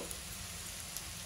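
Bitter gourd frying in a pan, a faint continuous sizzle with tiny crackles, steady and close, no voices.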